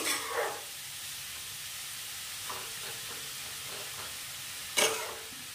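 A vegetable chop mixture cooks in a pan under a steady soft sizzle, with a few scraping stirs and one sharper clatter of the spatula near the end.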